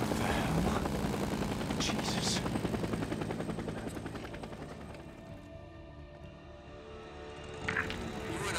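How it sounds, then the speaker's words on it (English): Helicopter rotor chopping through the Days Gone video game, a steady loud drone with bursts of gunfire layered over it and a voice talking throughout. "Come on, chase down this helicopter"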